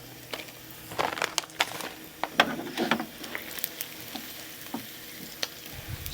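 Emping melinjo crackers, the Indonesian nut crackers, frying in hot oil, giving off a near, fairly quiet crackle of scattered pops and sizzles with no talking.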